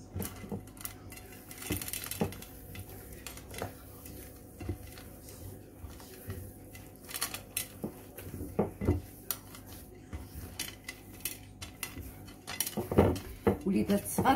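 Cookie dough being mixed in a bowl with dark chocolate chips, irregular clinks and scrapes of a utensil against the bowl, close and fairly quiet, with sparse taps and no talk.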